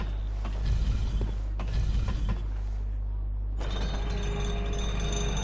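Elevator mechanism in the Bloodborne video game, a steady grinding, creaking machine hum with a low drone that drops out briefly, then returns, carried under continuous background ambience.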